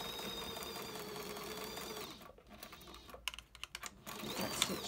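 A sewing machine stitches the side seam of a denim bag with a thick needle, giving a steady, fairly faint mechanical hum for about two seconds, then a few quiet irregular clicks and knocks before it resumes.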